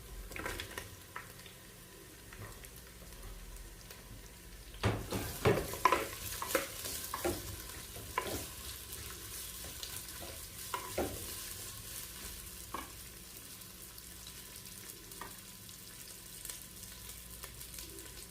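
Onion sautéing with garlic, green chili and ginger in a pan for Kerala-style fish, a quiet steady sizzle with a burst of sharper crackles and stirring scrapes as the onion goes in, then softer occasional clicks, no voice.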